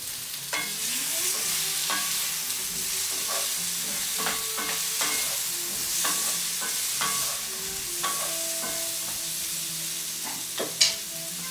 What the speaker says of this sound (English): Actually, I'm gonna stir the zucchini and sweet potato real quick.